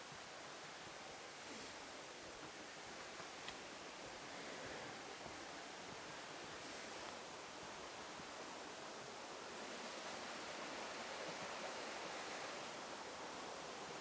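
A small waterfall with heavy morning flow makes a continuous, even wash of falling and flowing water. The sound stays steady and fairly soft throughout, with no voices.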